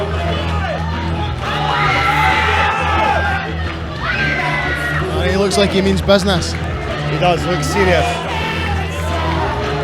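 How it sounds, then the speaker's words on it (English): A fired-up crowd at a boxing show shouts, whoops and cheers throughout, rowdy and loud, while commentators talk over the noise. "Crowd are getting a bit fiery now"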